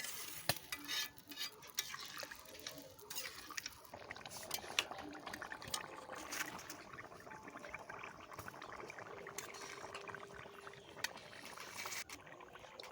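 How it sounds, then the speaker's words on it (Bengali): Water is poured into a pan of spiced potatoes sautéed with ginger for a pointed gourd curry, giving close sloshing and bubbling with stirring scrapes and a continuous wet sizzle, no voices. "এবার জল দিয়ে দিলাম"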